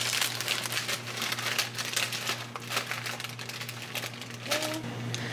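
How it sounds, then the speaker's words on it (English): A plastic bag crinkles and rustles close by as it is cut down, a busy stream of sharp crackles over a steady low hum. "Cut this bag down."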